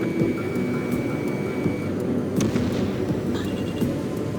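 Anti-aircraft fire in the jet combat game Ace Combat 7 makes a dense, loud, continuous rattle of bursts, with sharp cracks and pops scattered through it.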